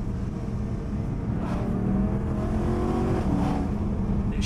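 A BMW M3 accelerates hard, its engine note climbing steadily and then dropping as it shifts up, heard from inside the car with a loud, continuous roar.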